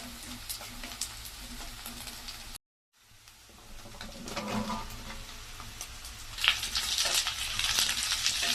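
Pumpkin pieces drop into hot oil that is already frying golden, setting off a steady, close sizzle that briefly cuts out, then swells louder and brighter as the frying continues.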